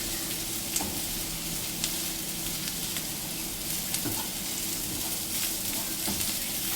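Sliced onions fry in hot oil in a pan for a canned tuna dry fry. A constant loud sizzle runs throughout, broken by soft clicks of a spatula stirring.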